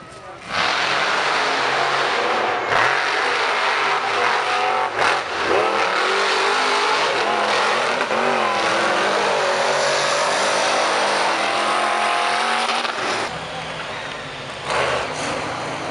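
Race cars at a full-size monster race roar and rev hard throughout, a loud sustained engine howl rising and falling in pitch, with crowd and announcer voices blended underneath.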